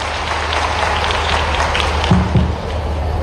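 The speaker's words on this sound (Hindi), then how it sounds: "जोरदार ताली बजाओ अपने उस बच्चे के लिए" Crowd applause at a tribal student encouragement ceremony in Khandwa, cheering a student going to London; a steady wash of many clapping hands, loud and continuous throughout.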